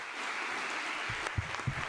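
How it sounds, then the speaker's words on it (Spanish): Applause for Dr. Rafael Muci-Mendoza, Venezuelan internist and neuro-ophthalmologist, at a tribute event: a steady wash of clapping from a crowd, with a few louder nearby claps standing out toward the end. "Un merecido aplauso, mucho más fuerte"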